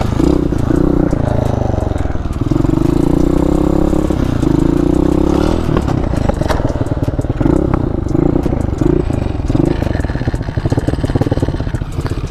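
A motorcycle engine revs and drones loudly and close, rising and falling in pitch through repeated throttle blips, with clattery mechanical noise and no clear talk.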